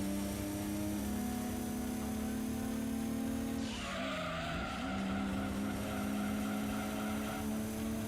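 Engine whine of a Vauxhall Astra race car in Gran Turismo 2, a steady droning tone that drops in pitch as the car slows and then climbs again, with a brief skid or tire squeal in the middle.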